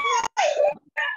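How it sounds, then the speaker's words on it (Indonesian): A baby's wailing cry comes through a meeting microphone in three close, loud bursts with short gaps between them. "Tadi suara-suara ini kedengaran suara bayi dan sebagainya"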